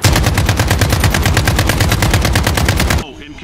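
Rapid automatic rifle fire in a Portal 2 parody game, a loud close burst of evenly spaced shots lasting about three seconds before cutting off abruptly.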